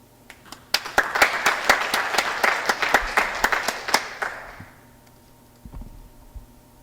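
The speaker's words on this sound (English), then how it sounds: "Please give a round of applause as we begin tonight's performance" An audience claps and cheers before a poetry performance, a burst of applause that peaks quickly, then thins out and fades to a few scattered claps.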